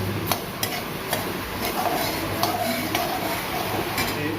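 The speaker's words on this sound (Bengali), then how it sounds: "পোস্ত ভাজি, ঘন ঘন নাড়াবেন" Poppy seeds are fried in a pan and stirred often. A soft, steady sizzle carries light scrapes and clicks of the utensil at a slow, uneven pace, with no talking.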